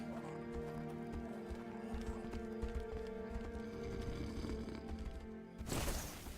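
Horse hooves clip-clopping in the video game Tainted Grail: Fall of Avalon, a steady trotting rhythm over continuous game music, with a louder whoosh or snort burst near the end.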